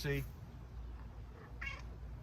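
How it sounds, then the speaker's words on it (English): A domestic cat meows briefly at the start, then a second shorter meow follows about a second and a half later, close by over a low outdoor rumble. "You're a good cat,"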